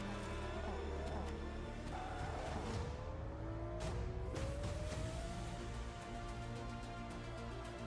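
Racing car engines from a racing video game trailer roar continuously, with rising revs, passing whooshes and brief tire squeal, loud and steady throughout.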